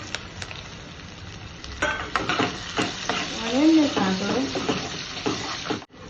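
Chopped garlic and onion sizzle in a hot pan for an Andhra-style methi dal, a steady crackling hiss with stirring scrapes and clinks, loud and close, while a voice briefly sings or hums over it.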